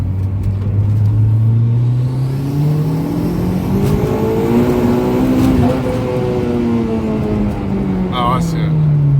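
A turbocharged four-cylinder Honda Civic of about 300 horsepower revs through a long climbing engine note that sweeps up, dips and rises again, loud and close, with voices talking over it.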